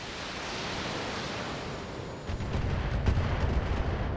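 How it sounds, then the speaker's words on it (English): Missiles slam into a mech in the BattleTech video game, a loud broadband rumble that jumps in strength partway through, with a burst of heavy impacts and booms over a steady roar. "The missiles are very rude."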